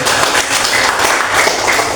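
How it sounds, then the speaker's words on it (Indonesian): Hands clapping in a classroom during a teaching practice session, a dense, steady patter of many palms lasting the full two seconds at moderate loudness with no talk over it. "Oke, tepuk tangan."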